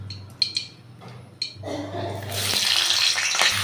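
Shrimp are dropped one by one into hot mustard oil for a malai curry, and a bright frying sizzle swells and holds close and loud after a few faint clinks.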